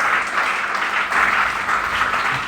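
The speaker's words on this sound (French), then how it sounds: "Acclamons pour lui" A church congregation applauding, a dense, continuous wash of clapping that stays loud and even for a couple of seconds.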